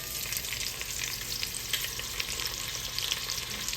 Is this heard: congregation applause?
no